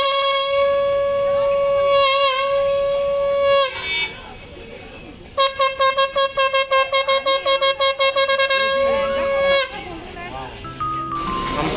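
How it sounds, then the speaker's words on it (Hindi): A conch shell is blown at a temple lake in Jagannath Puri, giving long steady horn tones, then a broken pulsing stretch, then another long blast, with background voices around it. "तो शंख वाजवायला शिकवतोय आता"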